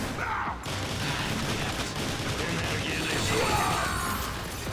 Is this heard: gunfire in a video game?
yes